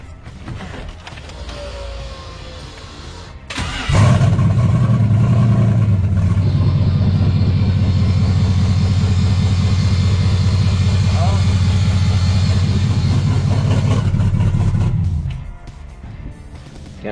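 A car engine cranks and catches with a sharp burst, then revs hard and holds a loud, throaty roar for about eleven seconds before dropping back off; quieter rustling before and after.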